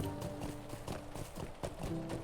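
Horse hooves clip-clop at a steady riding pace in the fantasy video game LOTRO (Lord of the Rings Online), with repeated close hoofbeats over continuous background game music and ambience.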